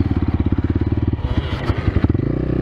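Kovi Lite 2021 motorcycles ride off with rapid pulsing engine beats, close and loud, their rhythm breaking into clattering revs as they pull away.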